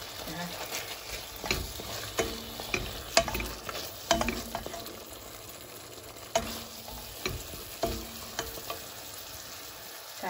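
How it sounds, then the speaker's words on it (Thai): Tuna is stir-fried with Thai curry paste in a pan, giving a quiet sizzle with repeated scraping and stirring strokes at an irregular rhythm, close up and with no talking. "ขั้นตอนนี้ก็คั่วปลาทูน่ากับเครื่องแกงจนได้ที่เลยนะคะ"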